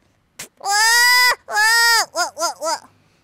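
A voice imitates a goat bleating up close: two long, quavering bleats followed by three short, quick ones, each rising and falling in pitch. There is no talking around them.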